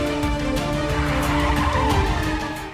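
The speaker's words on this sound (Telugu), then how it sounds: "సార్ ఇంత స్పీడ్లో హ్యాండ్ బ్రేక్ వేస్తే కారు పల్టీలు కొడుతుందేమో సార్" A car skids as the handbrake is yanked at high speed, a loud, continuous tire-and-engine roar with squealing tones holding steady for about three seconds, with no talk over it.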